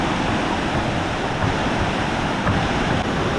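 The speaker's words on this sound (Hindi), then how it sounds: "ये हो गया नीचे का लेवल का वाटरफॉल" Waterfall at Langvoku in Karbi Anglong, Assam, a steady broad roar of rushing water, close and loud throughout, with some wind buffeting and no talking.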